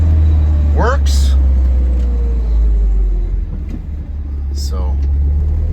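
A 1973 Alfa Romeo Spider's engine drones low and loud while driving around a neighborhood, a steady rumble that dips briefly near the end, with a few faint clicks and squeaks over it.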